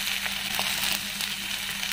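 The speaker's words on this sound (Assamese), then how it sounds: "আলু অকণমান ভাজি পেলাই মই পানী দিম" Diced potatoes and tomatoes sizzle in leftover hot oil with mustard seeds in a home kitchen pan, a steady close crackling hiss continuing without talk.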